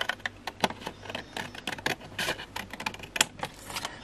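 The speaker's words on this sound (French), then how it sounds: "Je prends mes ciseaux" Scissors snip through paper in quick, irregular clicks and crisp cuts, close and fairly soft, with no talking.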